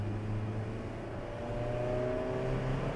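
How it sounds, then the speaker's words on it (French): A Ferrari engine hums steadily at a moderate level while being driven and shifted through gears, its pitch climbing gently with a rising whine late on, and no talking over it. "c'est moi qui passe les vitesses"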